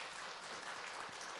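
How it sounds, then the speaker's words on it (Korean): A church congregation gives a brief, even wash of applause, heard faintly as a steady patter lasting about a second and a half. "우리 따뜻한 박수를 한번 축하합니다"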